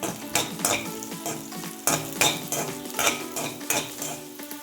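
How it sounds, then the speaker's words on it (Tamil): Cashews and raisins fry in a pan for milk payasam while a metal spoon stirs them, giving a soft sizzle broken by repeated scraping and clinking strokes against the pan, close up. "இதுக்கே முந்திரிய வத்தலையும் போட்டு வதக்கும்"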